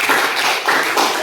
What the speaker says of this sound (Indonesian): Tepuk tangan untuk kelompok logam.